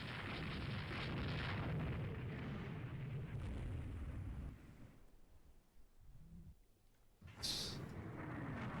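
Torpedo explosions in a Rule the Waves 3 naval battle between battlecruisers, a sustained roaring blast that dies away into quieter rumbling before a sharp second burst erupts near the end.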